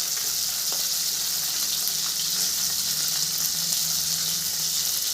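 Tengra fish fry in hot oil, giving a constant close, bright sizzling hiss with faint stirring clicks and no pauses.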